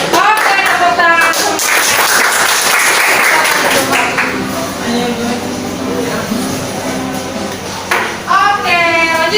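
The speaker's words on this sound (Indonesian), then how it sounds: "Oke, tepuk tangan." A class of students claps together in a classroom, a burst of brisk, fairly loud applause that fades into scattered taps and voices, with a teacher speaking around it.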